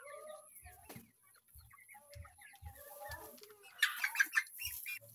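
Rhode Island Red and Black Australorp chickens cluck softly and close by in short, irregular calls, with low thumps between them and a livelier burst of clucking near the end.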